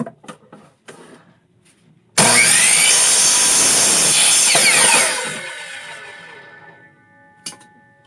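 A power saw rips through a notched piece of hard stock for a sword build, a loud close screaming cut lasting about three seconds that then winds down, with faint handling knocks before and after.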